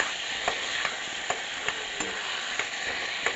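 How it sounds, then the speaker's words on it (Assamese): Cut potatoes fry with spices in a pan, giving a steady loud sizzle with regular sharp clicks of a utensil stirring and scraping the pan; no voices. "আলুখিনি এড কৰি দিয়াৰ পাছত এনেদৰে অলপ সময় ভাজি লৈ"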